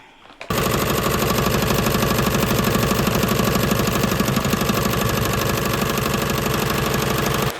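An embroidery machine stitches the tack-down and satin stitch of a holiday bag tag, starting abruptly and running as a loud, fast, steady mechanical rattle that keeps going to the end.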